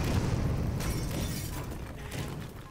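Bomb blast in the destruction game Teardown, a deep booming explosion followed by rumbling, crumbling debris and clattering collapse that slowly fades, fairly quiet overall.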